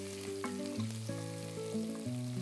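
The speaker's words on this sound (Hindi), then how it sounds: "तेल गरम हो चुका है, तो इसमें अब डालती हूँ मैं थोड़ा सा जीरा, फिर थोड़ा सा कटा हुआ प्याज।" Cumin seeds and chopped onion frying in hot oil for a Maharashtrian Gudi Padwa thali, with a steady background sizzle beneath sustained melodic music, and no talk.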